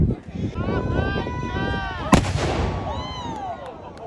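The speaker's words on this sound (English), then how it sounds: "they've each fired their guns, and that never happens that they both go off at the same time" A single sharp, loud boom as two cannons fire at the same time, cutting through background chatter midway at Arundel Castle, with voices continuing around it.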